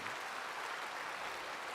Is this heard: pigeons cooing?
no